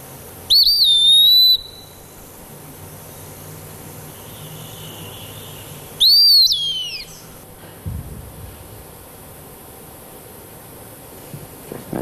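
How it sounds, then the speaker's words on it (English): Eastern wood pewee calling twice in a woodland, each a clear, high, slurred whistle of about a second, several seconds apart, over a quiet background hum with faint distant bird sounds. "an eastern wood peewee. This one says its name."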